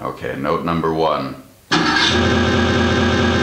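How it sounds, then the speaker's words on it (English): Car engine sound effect that kicks in suddenly and holds as a loud, steady engine roar, following a short stretch of someone talking. "the sound effect I was using was a car"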